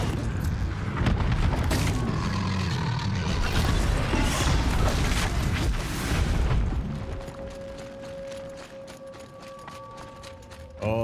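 A Thunderjaw machine fight in Horizon Zero Dawn: dense, loud booms, crashes and mechanical blasts pound for about seven seconds, then drop back to a quieter bed with steady tonal hums and a final sharp hit.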